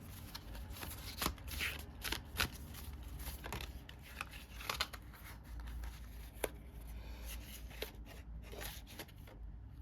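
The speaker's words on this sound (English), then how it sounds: "That was bad shuffling." Oracle fortune cards being shuffled by hand, close up, with repeated soft riffling bursts and sharp flicks scattered irregularly across a quiet background.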